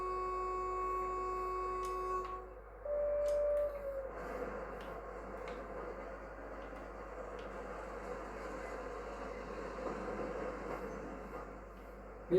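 A train moving out in the Train Sim World 5 video game: steady electrical tones and a hum give way to a low, continuous rolling rumble that stays moderate in level.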